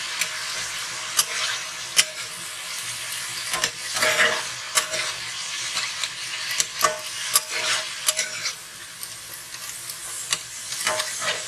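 Meat browning in a pot for homemade spaghetti sauce sizzles with a steady hiss, broken by repeated scrapes and clinks of a stirring utensil against the pot, moderately quiet with no voices.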